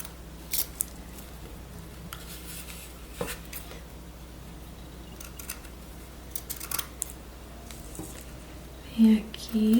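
Small scissors snip through a fabric-covered cardboard gift box in a run of scattered, close cuts, with a few louder crunches near the end; no one talks.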